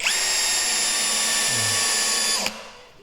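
A cordless impact hammer drill whines loudly and steadily at close range, its clutch slipping with a brief low chatter, then cuts off abruptly and a faint tail follows.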